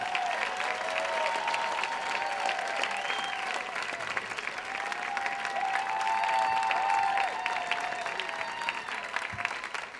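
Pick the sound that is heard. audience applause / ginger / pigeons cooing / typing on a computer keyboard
audience applause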